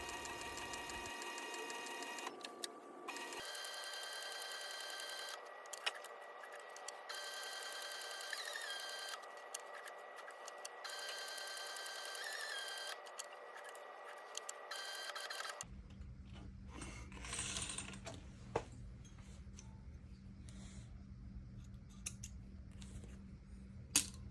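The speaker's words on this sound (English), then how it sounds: "Going to stitch it up using my Cobra Class 26 sewing machine." A Cobra Class 26 sewing machine stitches leather steadily for long stretches with brief pauses, its motor whirring and needle ticking, then stops, leaving quieter clicks and handling noises.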